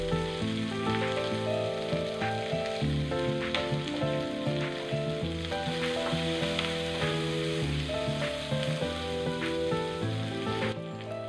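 Green chillies, red onions and curry leaves sizzle in hot oil, a steady close crackle with small pops throughout, backed by sustained tonal sounds.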